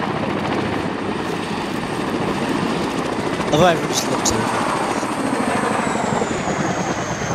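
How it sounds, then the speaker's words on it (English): A military helicopter passes overhead during an air assault training exercise, a steady heavy rotor drone filling the scene while people talk beneath it. "This helicopter's flying over again,"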